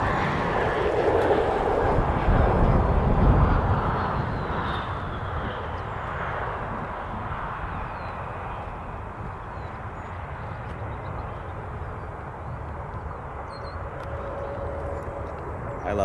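An airplane engine roars steadily at Toronto Pearson airport, strongest at first and then settling into a sustained broad rumble with wind noise, heard from a runway-side viewing spot outdoors.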